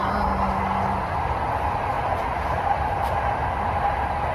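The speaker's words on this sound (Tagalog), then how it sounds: "Ayan yung bullet train." A bullet train passing through the countryside, a steady broad rushing roar that holds at an even level throughout, with no voices over it.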